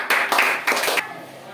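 Brief classroom applause, a short burst of several hands clapping for about a second, close and fairly loud, then fading into room quiet.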